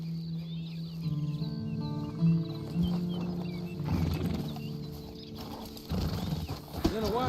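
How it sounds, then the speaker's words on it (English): Horse hooves clip-clopping in Red Dead Redemption 2, soft rhythmic steps under a low hum, with a voice speaking in the middle and later snorting and harness sounds, fairly faint overall. "Then you better get on this horse."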